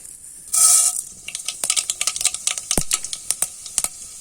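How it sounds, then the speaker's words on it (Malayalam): Mustard seeds popping in hot oil in a pan for a Kerala-style cashew roast: a brief hiss as they hit the oil, then a rapid, irregular series of sharp crackling pops, loud and close. "നമ്മുടെ കടുക് പൊട്ടി വന്നിട്ടുണ്ട്."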